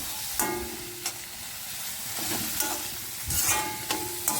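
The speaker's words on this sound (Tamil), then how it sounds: "வெங்காயம் இந்த மாதிரி கட் பண்ணிவிட்டு நம்ம இதுக்கு ஃப்ரை பண்ணலாம்" Sliced onions sizzle in a pan, a steady hissing fry broken by several sharp stirring scrapes and clatters at irregular intervals, close and moderately loud with no talking.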